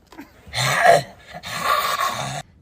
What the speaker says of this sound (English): What's wrong with your dog?